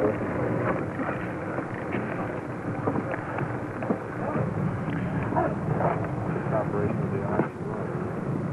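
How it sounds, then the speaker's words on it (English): Twenty Navy fighter aircraft fly over the graveside ceremonies at the 1963 state funeral, a continuous broad jet roar that stays steady and fairly loud throughout, with faint murmuring voices beneath. "20 Navy fighter aircraft."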